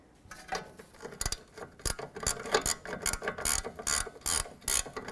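A hand ratchet snugging a 21 mm nut on the front knuckle of a Jeep Liberty during CV axle replacement, a close series of quick metallic clicks in irregular bursts, without talk.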